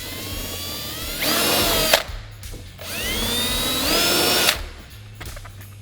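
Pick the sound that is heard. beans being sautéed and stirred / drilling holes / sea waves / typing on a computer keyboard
drilling holes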